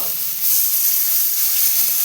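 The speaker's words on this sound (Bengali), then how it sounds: "আলু আর মশলা ভাজা ভাজা হয়ে গেল এবার জল দিয়ে দেবো" Water poured onto potatoes and spices frying in a pan sets off a loud, hissing sizzle that swells and stays steady and close.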